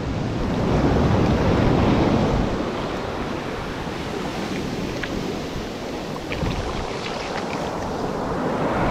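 Ocean surf breaking on a beach during a fishing session, a loud rushing crash that peaks early and then settles into a continuous close roar of washing water and wind, with no one talking.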